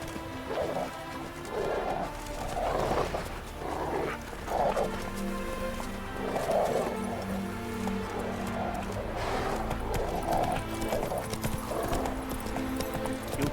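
A horse gallops in The Witcher 3 video game, its hooves beating a steady, fast clip-clop throughout, with an occasional snort over the continuous game ambience.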